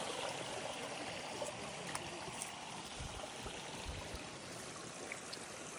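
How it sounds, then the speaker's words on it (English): Water streams fast through a narrow, river-like koi pond about 15 meters long, a steady close rushing and trickling with a few low thumps. "So the water flows relatively fast here because it's small"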